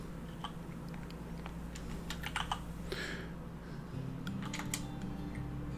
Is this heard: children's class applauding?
no